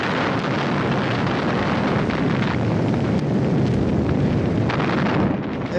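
Victory salute fireworks burst over Leningrad in a dense, continuous barrage of booms and crackles, loud and unbroken from start to finish, with no voices.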